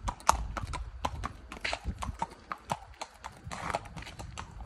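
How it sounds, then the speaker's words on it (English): A gentle shod horse used for lessons and therapy walks with crisp, irregular clip-clopping hooves at close range, the steps sounding clearly over quiet background. "This horse has been used as a lesson horse, kind of a therapy horse"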